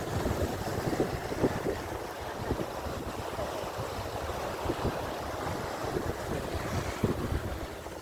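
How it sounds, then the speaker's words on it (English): Rushing water at the source of the Nile makes a continuous, broad, fairly loud roar, mixed with gusty wind buffeting the microphone and occasional splashy surges. "A lot of water going through."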